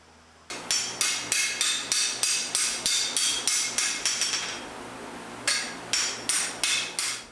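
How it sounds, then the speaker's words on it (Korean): A blacksmith's hammer strikes a blade in a forge in a quick, steady rhythm of sharp metallic blows, a brief pause, then a few more strikes, close and fairly loud with no talking. "망치질 할 때 소리가 강하고"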